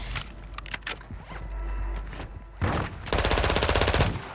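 Gunfire in Call of Duty: Modern Warfare II DMZ: scattered close shots and clatter, then a sustained rapid automatic burst filling the last second or so, loud and alone.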